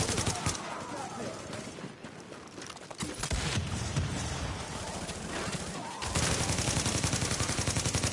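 Rapid bursts of gunfire from the video game The Division, dense and loud, with sharp shots crackling continuously and intensifying toward the end.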